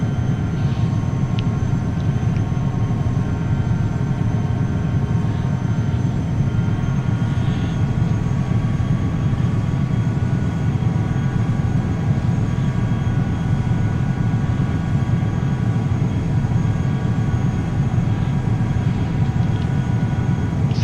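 A Challenger 300 business jet climbing in X-Plane 11, a loud, even cabin drone of engines and airflow with a steady low rumble and faint whine that holds constant throughout, no voices.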